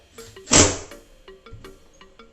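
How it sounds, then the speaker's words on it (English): An internal door swings shut and strikes a timber block screwed to its inside, giving one solid, close wooden thunk followed by a few faint knocks and taps. "When you close it, it hits, and then you know where the door stop will start."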